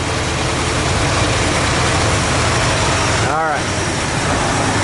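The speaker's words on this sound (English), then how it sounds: "I wonder where our air leak is coming from, because I can hear it" Old Dodge D100 stepside pickup engine idling after a decade of sitting, a steady low rumble with a hissing air leak running through it, loud and continuous with a brief voice cutting in near the end.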